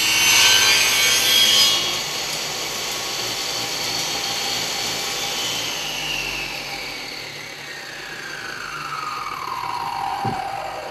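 Saw cutting a mitered wooden test piece, one continuous rasping cut that starts bright and loud, settles into a steady grinding buzz and winds down near the end, with no voices.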